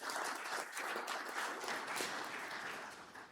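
A short burst of audience applause for a governor at a boy-child engagement event, moderately loud and continuous, tapering off at the end.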